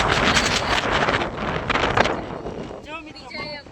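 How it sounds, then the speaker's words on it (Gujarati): Strong gusty wind buffets the microphone outdoors as rain approaches, a loud continuous roar through most of the clip, with a voice talking over it near the end. "જો મિત્રો, ફૂલ પવન છે, વરસાદ જેવું થઈ ગયું છે"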